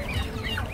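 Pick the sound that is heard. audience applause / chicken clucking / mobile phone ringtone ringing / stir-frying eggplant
chicken clucking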